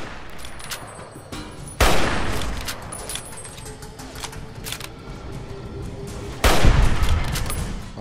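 Enemy gunfire in the Fallout New Vegas game at Black Mountain: two loud sharp bursts of shots stand out over a steady background of clicks and scattered smaller pops, with no talk.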